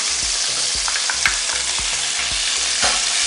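Onions added to hot oil with a little cumin seed fry loudly in a pan for beans egg curry, a strong, steady sizzle with soft regular thumps from stirring underneath.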